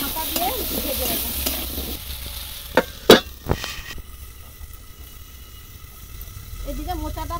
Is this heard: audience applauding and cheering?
no